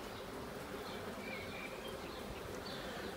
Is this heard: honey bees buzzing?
yes